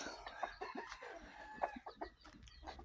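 Shamo fighting-breed rooster and hens cluck in a yard, giving soft, scattered clucks and short calls at close range over a quiet background.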